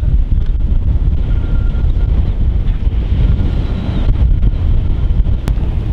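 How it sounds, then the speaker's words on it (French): Strong wind roars steadily across the microphone on the Atlantic Ocean, a dense rumbling buffet with the wash of open sea underneath. "on entend le vent qui monte"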